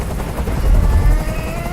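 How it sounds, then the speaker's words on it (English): Helicopter hovering in the video game Detroit: Become Human, a steady low rotor rumble that swells and stays loud and close throughout with no voices. "Tell that helicopter to get out of here."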